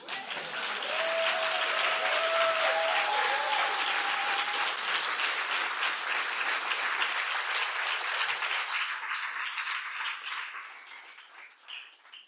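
Sustained audience applause fills a conference hall in Québec, dense and steady for about ten seconds before tapering off near the end, with a faint tonal whistle or voice briefly riding over the clapping early on.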